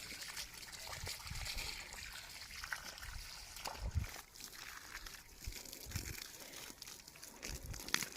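Tap water flows in a village household after several days without supply, a steady trickling and splashing with occasional clatters, moderately close.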